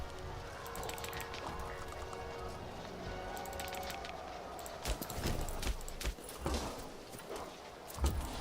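Horses walking in the video game Imperator: Rome give a steady, busy clip-clop of hooves over a dense ambient game soundscape, with several sharper hoof hits standing out toward the end.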